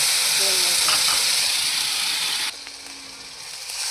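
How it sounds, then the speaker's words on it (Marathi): Water poured into a hot pan while making sheera sizzles and hisses loudly and continuously at close range, settling slightly quieter partway through. "अशा दोन वाट्या पाणी टाकायचं"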